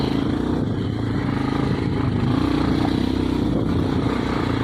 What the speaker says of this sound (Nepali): बाइकै चढ्नै मान्दैन।